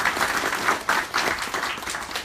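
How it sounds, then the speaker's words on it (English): An audience of about 80 people at a charity hackathon opening presentation applauds steadily, a dense wash of clapping that stays loud and even throughout with no talk over it. "Please give yourselves a round of applause as well."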